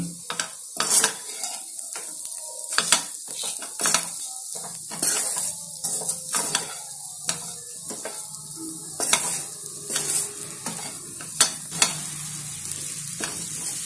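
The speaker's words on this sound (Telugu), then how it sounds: "ఒక 2-3 నిమిషాలు ఇట్లా ఫ్రై చేసుకోండి మొత్తం" Potatoes coated in chili powder are stir-fried in a pan, with loud sizzling broken by frequent sharp clinks and scrapes of a spatula against the metal, close up and without talk.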